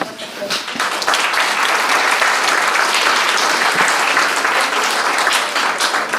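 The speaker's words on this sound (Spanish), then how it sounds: "Vamos a darle un fuerte aplauso." Audience at a forum panel on the city breaks into loud, sustained applause for a former legislator, dense clapping from many hands filling the room from start to finish, with some faint talk underneath.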